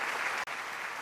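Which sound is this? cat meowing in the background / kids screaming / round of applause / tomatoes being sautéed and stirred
round of applause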